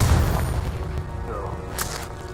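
A deep booming burst from the Confringo explosion curse in the video game Hogwarts Legacy, loud at the very start and decaying into a rumbling tail with a faint whoosh.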